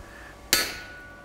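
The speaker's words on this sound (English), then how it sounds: "Using my hammer to support the work into my center punch to start with." A blacksmith's hammer strikes a center punch held against a hot steel bar while forging a tie bar, giving one sharp, loud metallic clank that rings on briefly and fades.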